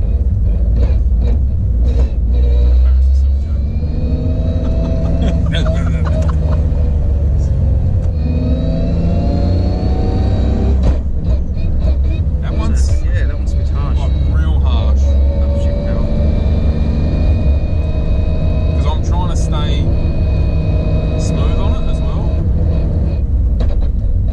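A 300 kW Toyota GR Yaris Rallye Edition street car with a sequential gearbox being driven: a loud, constant engine drone and rumble that rises and falls with throttle throughout.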